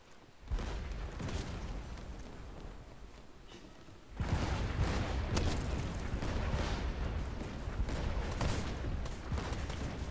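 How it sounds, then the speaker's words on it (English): Ship cannons firing in the pirate video game Blazing Sails, a dense rumbling barrage of booms that grows heavier and louder partway through, with continuous crackling and roaring under it. "Fire the right cannons."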